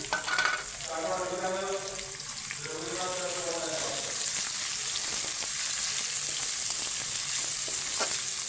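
Garlic frying in a pan before onions go in: a continuous close sizzle with occasional stirring scrapes, and a brief voice speaking near the start.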